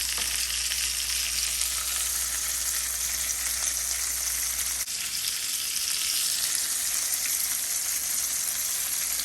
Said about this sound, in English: I got one of those little tubes of sausage. So we're just gonna cook up it all at once, and I got it all in the pan there